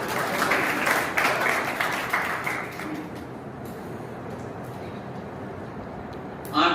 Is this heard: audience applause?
yes